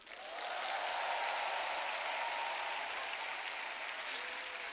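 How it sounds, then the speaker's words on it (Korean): An audience of about 13,000 people in a large hall gives sustained, even applause that rises quickly and holds steady without a break. "여러분 박수 좀 보내주세요"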